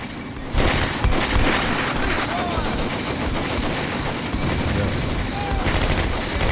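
Dense, continuous gunfire from many rifles and machine guns in the wartime strategy game Combat Mission: Beyond Overlord, with Canadian troops firing on retreating enemies; the shooting starts abruptly and rattles on loudly throughout, mixed with heavy booming.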